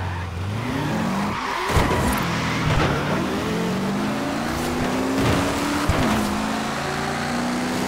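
A stuck car revs hard in Forza Horizon 4, its engine note rising and falling in repeated surges with tire squeal and skidding, loud and continuous with no talking.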